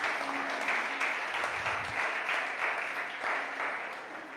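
A church congregation gives a sustained round of applause during a Spanish-language service, dense clapping that holds steady for several seconds and slowly thins toward the end.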